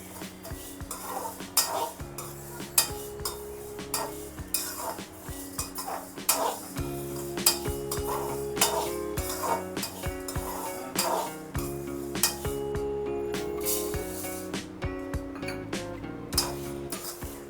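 Moong and urad dal dry-roasting in a pan, stirred steadily with a metal spoon that clinks and scrapes the pan in a quick, continuous rhythm, close and clear, with no talking.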